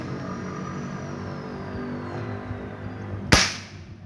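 A single sharp rifle shot cracks out near the end during a shooting test for high school students, its report dying away quickly over a steady low background rumble.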